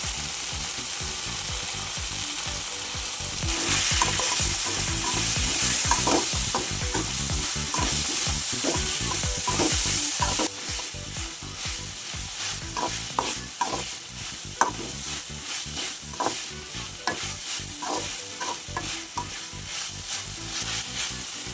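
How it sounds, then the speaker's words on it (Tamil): Paneer fried rice vegetables sautéing with red and green chilli sauces, a steady loud sizzle and frying hiss with repeated scraping stir strokes of a spatula throughout, no talk. "சிக்ஸ்டி பர்சன்டேஜ் வேகிற வரைக்கும் கொஞ்சம் நல்லா வதக்கி விடுங்க"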